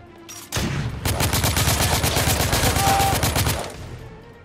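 A shotgun fires in the video game The Order: 1886, with a sharp blast followed by a rapid, dense volley of gunfire lasting a few seconds, loud and close, with no talking.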